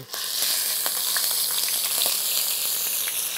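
Ginger garlic paste fries and splatters in a pot of Bengali-style mutton stew, giving a steady, loud, hissing sizzle with scattered small pops and crackles throughout, close up and without talk.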